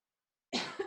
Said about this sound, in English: This one always makes me cough a little bit.